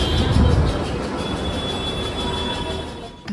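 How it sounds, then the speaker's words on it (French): A metro train in New Delhi, India rumbles loudly and steadily close by, with a heavy low roar that peaks early and then holds. A faint high whine runs through it and a short knock sounds near the end. "on va essayer de prendre le métro"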